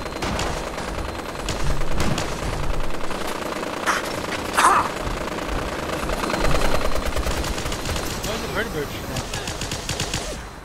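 Automatic gunfire in Fallout 4 as an enemy shoots at the player, continuous rattling bursts throughout, fairly close and loud, with brief voice sounds mixed in.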